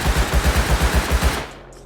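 A Tommy gun fires in rapid automatic bursts while the shooter crouches in Rust Console Edition, a steady string of about ten sharp, loud shots that stops abruptly and leaves a short, quiet tail.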